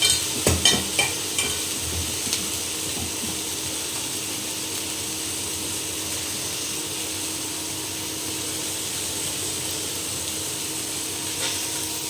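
Chow mein stir-fried with sauce and coriander leaves in a pan, giving a steady close sizzle with a few sharp scraping knocks from a spatula near the start, then continuous frying hiss throughout.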